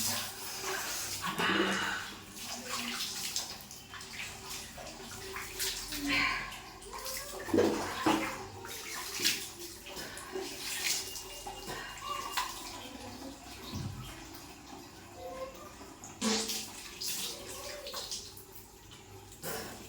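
Water is poured and splashed over a body during a morning bath, coming in irregular gushes and drips at close range.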